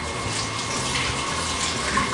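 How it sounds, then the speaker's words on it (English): Tap water runs steadily into a sink while hands are washed during home winemaking, a continuous close hiss and splash with no talk. "Wash my hands."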